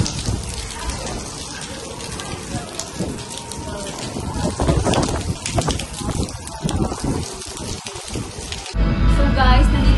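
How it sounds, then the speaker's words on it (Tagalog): Heavy artificial rain pouring at Voco Monaco Island hotel in Dubai, a loud dense continuous hiss of falling water close by, with voices mixed in beneath the downpour. "At yan yung artificial rain nila doon."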